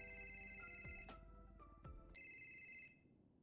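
Phone ringtone going off during a heated interview, a steady electronic melody with tonal bursts that plays on for about three seconds, then fades out.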